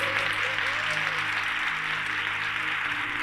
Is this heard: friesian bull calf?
no